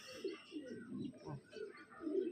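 Black Mastan line pigeons, a male and a female, give soft repeated coos at close range, a gentle pulsing series of low calls with no clear talk.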